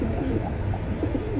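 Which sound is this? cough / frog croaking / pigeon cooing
pigeon cooing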